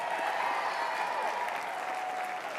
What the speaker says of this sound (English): A big thank you and round of applause for Matt and Mercy Schlapp.